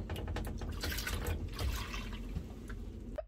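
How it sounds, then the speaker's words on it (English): Green antifreeze water running out of a sailboat's system during winterization, a steady splashing, trickling flow with irregular drips, close by and ending abruptly. "Green water is coming"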